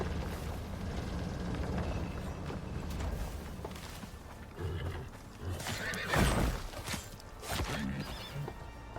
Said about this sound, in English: There's a horse over there.